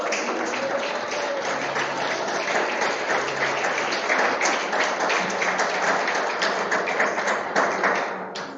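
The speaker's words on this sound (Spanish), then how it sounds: "Dale un aplauso al Señor." A church congregation breaks into sustained, dense applause, many hands clapping at once with occasional thumps, steady for several seconds before easing slightly at the end.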